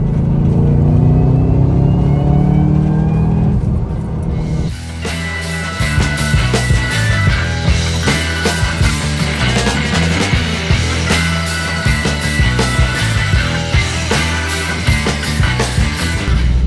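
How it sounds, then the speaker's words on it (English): A supercharged car's engine whines over a deep rumble, loud and close, with the tone shifting as the engine works and then settling into a continuous steady drone. "You can hear that supercharger whine."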